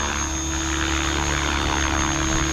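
A Synergy 516 RC helicopter flies, its rotor and motor giving a steady loud whine with a sustained high tone, unbroken throughout and with no talk.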